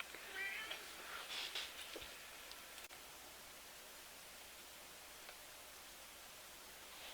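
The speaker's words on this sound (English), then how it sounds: "I go take care of my cat because she's meowing at me" A cat gives a few faint, high meows near the start against a quiet indoor room hiss, then falls silent while steady low static carries on.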